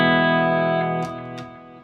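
A Gibson Les Paul with low-output PAF humbuckers, played on its bridge pickup, runs clean through a Splawn QuickRod 100W amp. A single sustained chord rings out loud and alone, then decays with a couple of brief picking noises.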